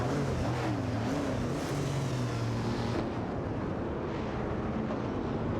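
Engines of a Lancia Stratos HF and a Shelby GT350 in a racing video game drone steadily at moderate volume, one tone dipping and rising as the cars battle for position, with no talking.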